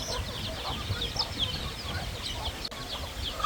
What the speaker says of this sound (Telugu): చిన్న కోళ్ళ ఫామ్లోని పందెం కోళ్ళు